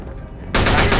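Gunfire in the Mafia 2 video game erupts suddenly after a moment of quieter game sound, a loud, dense burst of rapid shots filling the rest of the clip.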